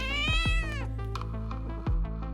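A cat meows loudly and close up, a drawn-out rising and falling cry followed by shorter meows, alone with no talking.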